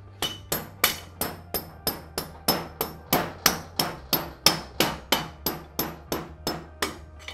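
Steady, evenly spaced hammer taps driving an axle back into place, about two per second, close and ringing slightly, continuing throughout without any talking.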